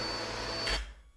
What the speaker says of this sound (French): je suis l'aspirateur parce que ça fait beaucoup de bruit